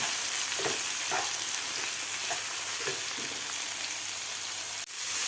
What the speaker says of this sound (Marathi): आता व्यवस्थित आपल्याला टोमॅटो आणि कांदा व्यवस्थित फ्राय करून घ्यायचा आहे तेलामध्ये तीन ते चार मिनिट आपल्याला हे फ्राय करून घ्यायचं आहे